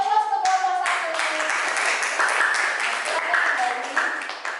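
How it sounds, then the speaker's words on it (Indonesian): A classroom audience claps for the first presentation group at a teacher training session: a steady wash of many hands clapping, fairly close and sustained throughout, with voices mixed in near the start. "kasih aplaus untuk kelompok satu"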